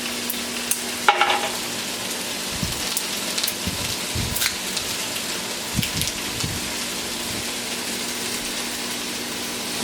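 Potatoes frying and browning in a pan give a steady, dense sizzle like light rain, with a few soft scraping knocks, close and continuous, with no talking.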